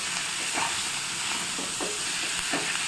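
Chicken pieces stirred in a hot frying pan, a steady sizzle with a few soft scrapes of the spoon at intervals, no voices.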